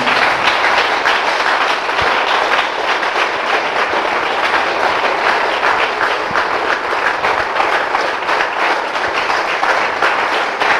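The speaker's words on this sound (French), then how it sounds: "nous allons l'acclamer très très très fort." A church congregation cheers and acclaims loudly during a worship service, a dense, continuous roar of voices and clapping filling the space without a break.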